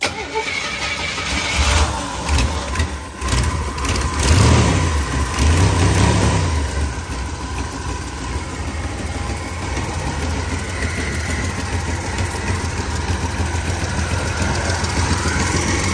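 A Buick 225 V6 with an exhaust leak cranks and catches, then settles into a loud, rough, throaty idle that rumbles steadily and close for the rest of the time.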